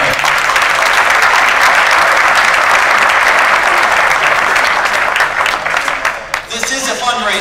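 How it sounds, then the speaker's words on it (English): Guests at a fundraising awards banquet applaud, a loud, dense wash of clapping from a large room that holds steady for several seconds before thinning out near the end. "So you're applauding me, but applaud yourselves as well."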